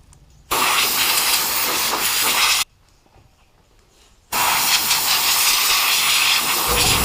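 Two long bursts of loud hissing spray from a can of CMT saw blade cleaner, separated by a short pause of near silence, with no talking.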